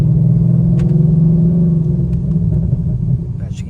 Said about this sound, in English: I don't know what's going on with the catback exhaust.